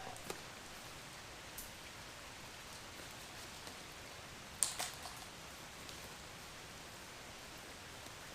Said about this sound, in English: Rain just like never stops.